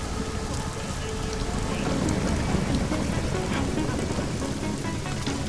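Steady rain in the video game Deus Ex: Mankind Divided, a dense continuous hiss of falling water and pattering drops, broadband and unbroken, fairly loud with no voices.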